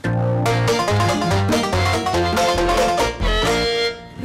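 A banjo plays a quick, plucked melody with crisp repeated notes over a bouncing bass line, close and lively throughout.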